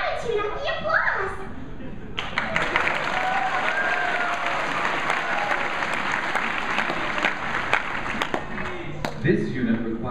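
Audience applause at a MegaCon 2013 voice actors panel: a brief voice, then a sustained wash of clapping from a large convention crowd that lasts about seven seconds, with a few voices over the end.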